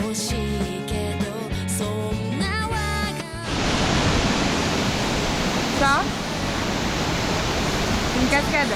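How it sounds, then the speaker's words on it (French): Music plays at first, then gives way to the steady broadband rush of a waterfall at the Osaka World Expo, continuous and close, with a brief voice surfacing partway through. "C'est une cascade."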